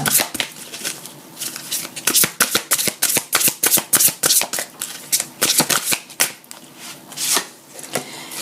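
Oracle cards shuffled and handled during a daily guidance card reading, a close series of crisp riffling bursts and soft flicks in an uneven rhythm, with no talk over them.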